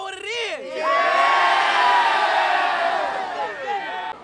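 A crowd of high school football fans roars a victory cheer, with shouts and whoops swelling into a sustained, loud, chaotic mass of voices before tapering off.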